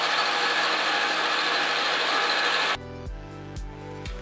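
A milling machine trims 5 millimetres off cardboard rocket engines, giving a steady, loud, noisy grinding whir for nearly three seconds. It then stops abruptly, and pulsing tonal notes follow.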